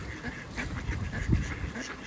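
Ducks in an open riverside park give a few short quacks, one louder call standing out near the end, heard faintly over light outdoor background noise.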